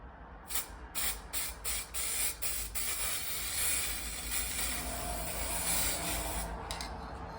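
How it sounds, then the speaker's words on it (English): Short hissing bursts of gold spray paint from an aerosol can, then a long steady spray that continues to the end, close and fairly loud. "a nicer look after you apply the golden spray underneath the gold sheet"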